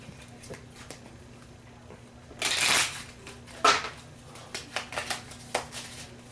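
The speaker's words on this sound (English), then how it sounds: "we have to shuffle the villain trash until 1 drone or component is" A deck of Sentinels of the Multiverse game cards being shuffled on a table, heard as a loud riffle burst followed by a shorter one and several quick flicks and taps, close by over a low electrical hum.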